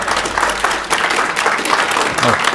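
A city council meeting audience breaks into dense, steady applause with many hands clapping together, holding at an even, fairly loud level throughout with a brief dip partway through.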